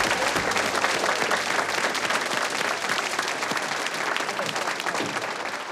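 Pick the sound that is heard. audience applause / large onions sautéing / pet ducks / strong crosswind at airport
audience applause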